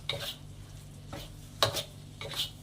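Paruppu usili, a crumbly lentil mixture, being stirred steadily in a pan: a few distinct scraping strokes with light sizzling between them, close by and fairly quiet, with no talking.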